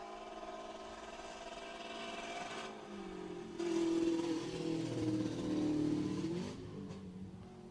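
A rally car with a faulty exhaust drones on a rally stage, then revs harder with a rough, uneven tone and a whining edge before easing off, heard from a moderate distance.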